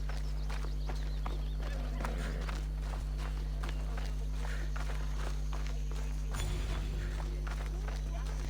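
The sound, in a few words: horse hooves clip-clopping, from a video game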